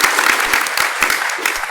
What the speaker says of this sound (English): Don't talk over my clapping.